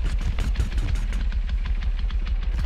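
Leatherface's chainsaw idling in the Texas Chain Saw Massacre video game, a deep bassy engine chugging in a steady, rapid pulsing rhythm, loud and close with no talk over it.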